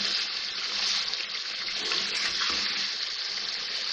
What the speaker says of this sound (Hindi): पानी डाल लिया 2 टेबल स्पून